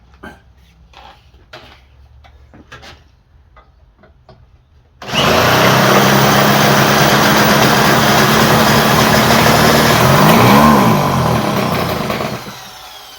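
A small Craftsman engine, likely with a stuck ring, bursts into life after a few quiet clicks as a drill turns it, running loud and steady with a rough, buzzing drone before dropping off near the end.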